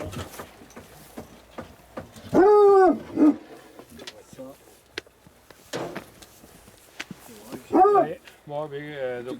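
Dogs at a competition near a wood give short bark and howl bursts at a distance, heard between and under people talking in French.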